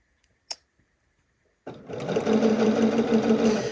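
After a soft click and a pause, a sewing machine stitching a Cashmerette Haskell shirt seam at a 2.5 mm stitch length starts up, running in a steady, close mechanical whir to the end.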